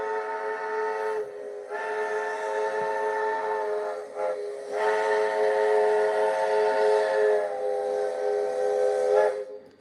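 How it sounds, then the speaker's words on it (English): Loud train whistle blowing in long sustained blasts, briefly breaking and dipping twice before resuming, with a steady rumble underneath and a final fade. "Listen to that whistle blowing"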